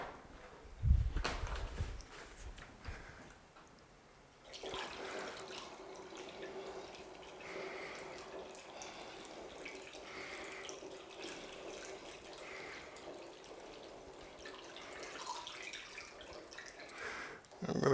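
Orange juice pours steadily into a jug while making orange juice wine, a continuous liquid stream running for most of the span after a brief handling knock at the start, close and moderately loud.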